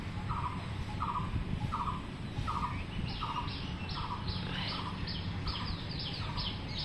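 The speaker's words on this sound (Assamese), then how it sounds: "এই যে চাৰিওফালে চৰাই কুলিয়াই থাকে, এই আৱাজটো বৰ ভাল লাগে বাগানত থাকিলে" Repeated bird calls ring out around a bungalow garden, short chirps recurring steadily over a constant background hum, with a higher second call joining in partway through.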